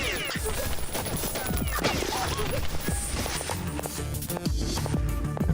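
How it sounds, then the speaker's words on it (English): Rapid bursts of machine gun fire in the Half-Life game Beyond Citadel, loud and dense, with impacts and clatter packed throughout and no pause. "I'll just kill it with my machine gun."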